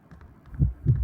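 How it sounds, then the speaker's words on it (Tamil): Heartbeat effect in the horror game White School: two heavy, muffled low thumps about a third of a second apart, louder than the faint background rumble and soft taps before them. "ஹார்ட் பீட் கேக்குது"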